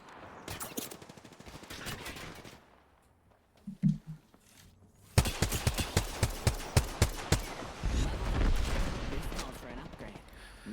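Gunfire in the video game Apex Legends during a competitive scrim: rapid trains of sharp shots and bursts, some distant and sparse, then a dense stretch of repeated cracks, under continuous live commentary.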